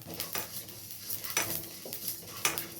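Cumin seeds crackle and pop while dry roasting in a hot pan, scattered quick snaps over a soft sizzle, close by.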